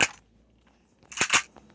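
Gunfire in a one-on-one shooting video game match: a sharp crack, a short pause, then a quick pair of snappy shots, close and fairly loud.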